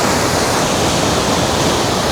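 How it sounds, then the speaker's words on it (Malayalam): Rhine Falls roars close beside a small tour boat, a dense steady rush of falling and churning water filling the whole span at high volume. "വളരെ ക്ലോസ് ആയിട്ടാണ് ഈ വെള്ളം ഒഴുകുന്നത്"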